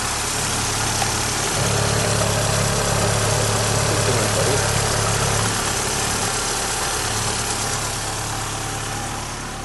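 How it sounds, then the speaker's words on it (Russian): A 1.8 car engine idles steadily and evenly, with a close, continuous low hum and mechanical whirr and no revving. "Двигатель работает чисто, не дымит."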